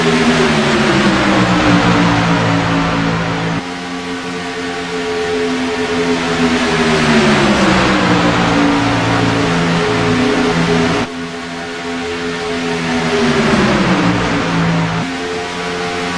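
Racing cars on a circuit during a close multi-car battle, engines droning loud and continuous with rising and falling pitch as they pass, the sound shifting abruptly at cuts.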